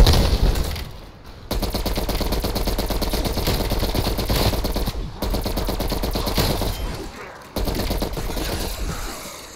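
Gunfire in a video game, a dense, continuous rapid burst of automatic fire that pauses briefly a few times, loud and unbroken for most of the stretch.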